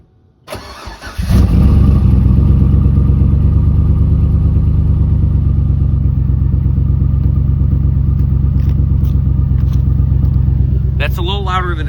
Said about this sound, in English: as you can see, the muffler's blown open.